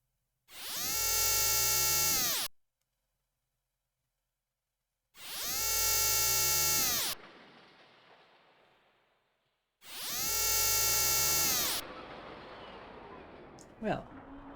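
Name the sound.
drilling in Xenogears video game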